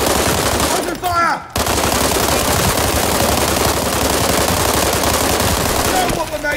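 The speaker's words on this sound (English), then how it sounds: "Under fire!" Sustained rapid automatic gunfire in a video game, loud and close, rattling almost continuously with one short pause near the start and another break at the end.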